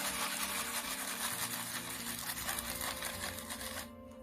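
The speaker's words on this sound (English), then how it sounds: "So we grate the sample again." A grater inside a nut moisture meter grinds a sample of about ten nut kernels, giving a continuous loud rasping, whirring grind that runs steadily and eases off near the end.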